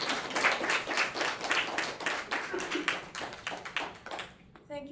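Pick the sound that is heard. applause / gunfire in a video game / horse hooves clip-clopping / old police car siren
applause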